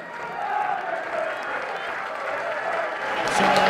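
A large football crowd at Central Park for Cowdenbeath versus East Kilbride applauds and murmurs as the teams come out, a steady distant wash of clapping that swells toward the end.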